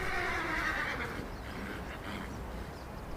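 Wild horses in the foothills squeal and neigh during a short scuffle, one loud drawn-out whinny followed by rougher snorting cries, fairly near and alone without talking.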